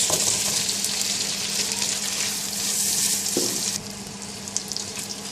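Ginger garlic paste and onions dropped into hot oil with whole spices for mutton curry, a loud, continuous close sizzle and crackle that eases slightly near the end, with no voices.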